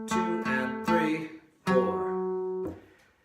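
Guitar picks the opening of the fiddle tune Red Haired Boy in a short run of bright, ringing plucked notes and strums, some cut off quickly and others left to sustain, close and alone.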